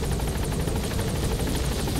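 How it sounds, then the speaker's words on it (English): Helicopter in the Metal Gear Solid V: The Phantom Pain game, a steady dense rotor roar with rhythmic blade chopping, loud and continuous throughout with no voices. "I can't see the chopper anymore."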